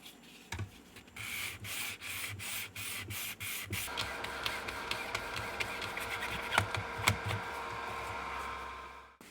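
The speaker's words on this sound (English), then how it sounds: "I need to go in and polish these scratches out" Close, steady rubbing and scrubbing as scratches are polished out of a UV resin coaster, with rapid repeated strokes and a few sharper squeaks, fairly quiet and with no talking.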